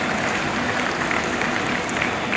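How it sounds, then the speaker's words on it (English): An audience at a maritime summit applauds steadily, a dense even wash of many hands clapping, loud and continuous throughout with no pause. "please have a round of applause"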